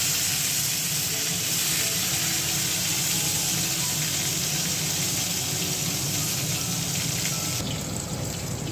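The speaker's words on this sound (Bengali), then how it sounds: "এবার এই তেলে বেগুন ভাজবো" Eggplant slices fry in hot mustard oil, a dense, even sizzling hiss that holds steady and close for the whole stretch with no voices.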